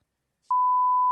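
A single loud censor bleep: a steady pure tone lasting about two-thirds of a second that blots out a spoken word on a podcast, with nothing else audible around it.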